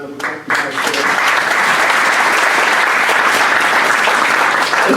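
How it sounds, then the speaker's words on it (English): After a brief pause, a Rotary meeting audience launches into a loud, sustained round of applause for Pastor Cosby, a dense, even patter of many hands clapping together that fills the room without letup. "give him another round of applause"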